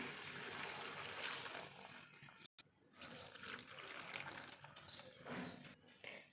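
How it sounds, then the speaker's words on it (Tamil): About two cups of water poured into a juicer jar for an apple, beetroot and carrot juice, a steady splashing pour that runs continuously, breaks off briefly, then carries on at a similar level. "நான் இதில் ரெண்டு கப் அளவு தண்ணி ஊற்றிக்க போகிறேன்"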